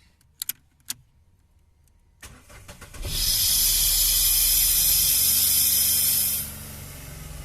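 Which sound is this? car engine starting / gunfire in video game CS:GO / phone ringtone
car engine starting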